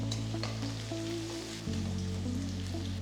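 Chopped garlic and ginger sizzling in hot oil for vegetable noodles, a dense close frying hiss with a low steady hum beneath it.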